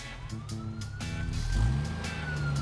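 Emergency siren from a toy Lego Friends ambulance, a steady rising and falling wail running through the whole stretch alongside a low engine-like rumble, fairly close and clear with no talking.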